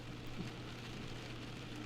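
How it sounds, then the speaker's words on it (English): Heavy rain pours down in a dense, steady hiss with no breaks and no voices, filling the whole short stretch at an even level. "Might as well be with all this rain, all this water."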